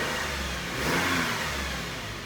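A Subaru Outback fitted with a new full exhaust revs up, a broad roaring engine sound that swells in the middle of the rev and eases off, heard close and steady with no talking.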